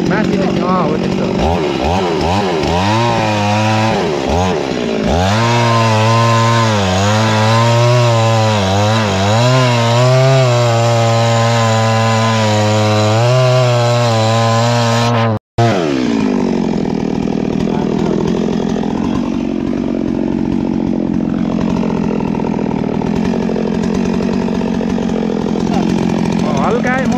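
A chainsaw cuts into wood to reach a wild bee colony, revving and bogging loudly up close, cutting out briefly before running on in a steady whine, with voices talking over it.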